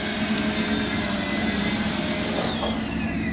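A beginner JJRC radio-controlled helicopter whines steadily with a high rotor and motor hum as it descends toward a helipad, its pitch dipping near the end as it settles.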